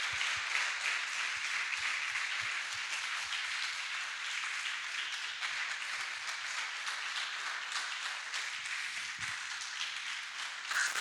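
Church congregation applauding together during a service, a steady field of many hands clapping at moderate distance, fairly faint and even throughout with no talking over it.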